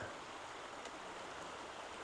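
A small trout creek that feeds from a bigger river flows with a steady, broadband rushing burble. It is close and continuous, with no voices over it.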